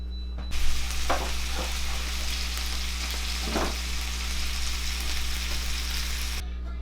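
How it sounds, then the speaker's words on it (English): French onion soup in a pot gives off a loud, steady sizzling bubble that fills the whole stretch, with a few brief stirring scrapes breaking through close by. "You sit around, you let it simmer, let all the flavors come together."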